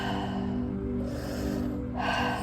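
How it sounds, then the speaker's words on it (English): Breathwork breathing through the mouth, drawing air in like sucking through a straw. A close, steady rush of breath fills the moment, with an inhale swelling near the end and no talking. "remembering to breathe in through the mouth like you're sucking through a straw."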